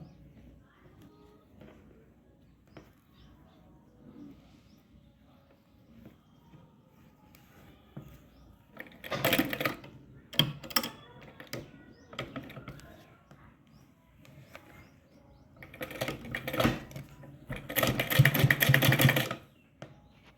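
A sewing machine stitches the front part of a blouse in two loud close bursts of rapid whirring and clatter, with quiet pauses between.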